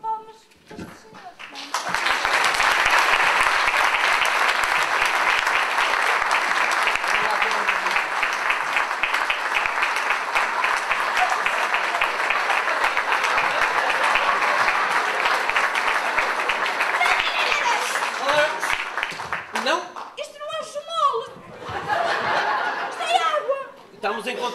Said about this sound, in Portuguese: Eu agora queria uma salva de palmas para este senhor.